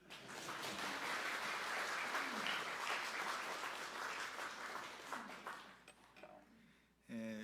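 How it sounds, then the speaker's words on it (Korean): A church congregation at a pastor's installation and ordination thanksgiving service breaks into loud, sustained applause that thins out and fades near the end, followed by a short burst of another sound. "박수"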